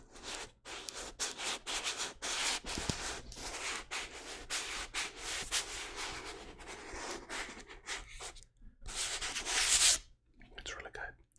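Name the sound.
rubbing a coarse, grainy book cover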